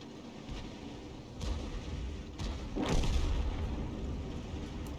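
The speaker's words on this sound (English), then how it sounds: "I'm going to fire an AP round at the back of this guy and see if I can pen him." An M40/M43 self-propelled gun in a video game firing an armour-piercing round, heard as a deep rumbling boom that swells and slowly fades under a steady low background drone.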